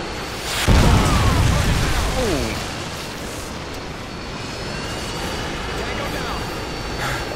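Predator missile strike in a shooter video game, a sudden loud blast followed by a long rumbling roar that slowly fades beneath ongoing voices.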